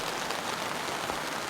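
Heavy rain drums steadily on a camping tent, a dense, even hiss with no pauses, close and fairly loud.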